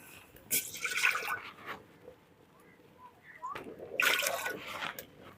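Water poured into a pan to make the sugar syrup for village-style peanut candy, kadalai mittai: two separate splashing pours, close and fairly soft, with a quiet pause between them.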